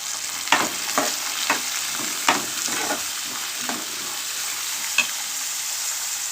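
Carrot pieces frying in a pan with onion, giving a steady soft sizzle broken by about eight sharp scraping stirs of a spatula, close and fairly loud, no voices.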